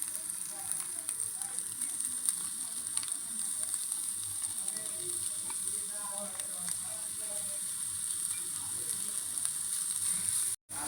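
Green beans and chhana frying together in a pan for a sweet, giving a steady, fairly quiet sizzle that runs without a break and with no talking.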